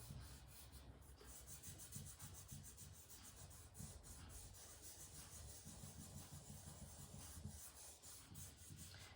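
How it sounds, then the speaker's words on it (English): Graphite is rubbed against a sandpaper board for a drawing, making a very faint, continuous scratchy rasp of close, repeated strokes with no voices. "I'm going to use my sandpaper board here and get some graphite to rub some of the dark in"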